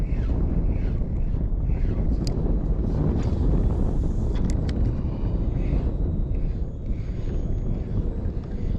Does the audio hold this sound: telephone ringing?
no